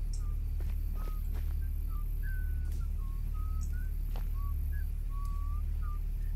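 A person whistles a wandering, broken tune of short notes in the horror video game Sparky Marky, moderately loud over a steady low drone.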